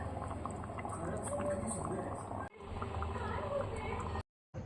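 Sprouted green mung bean curry simmering in a pot gives a steady, dense bubbling wash that runs without a break. One brief dropout and a short silent gap near the end interrupt it. There is no talk.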